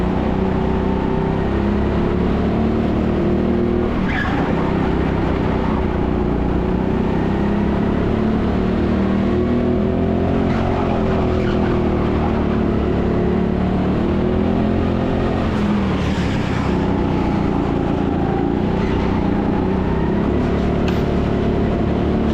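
Go-kart engines droning continuously during a kart-swapping GP2 race at TeamSport Sheffield, a loud, steady buzzing whine that rises and falls slightly as the karts accelerate, with no talk.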